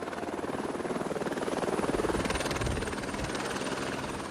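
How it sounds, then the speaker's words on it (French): A helicopter flies along the Mediterranean coast from Nice to Monaco, its rotor thudding in a steady, rapid pulse over a loud engine whine, close and continuous throughout. "Pour faire une entrée remarquée à Monaco, autant prendre l'hélicoptère."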